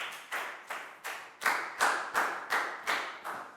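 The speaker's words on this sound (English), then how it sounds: "Big round of applause for Dan," Pupils in a Year 4 science classroom clap for a classmate in a slow, unison rhythm, about nine evenly spaced loud claps at a steady beat, each one sharp and clear with short decay.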